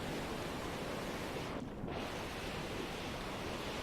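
Ocean waves in the video game Stormworks give a constant loud hiss of surf and wind-like wash, briefly thinning for a moment before the same dense roar carries on.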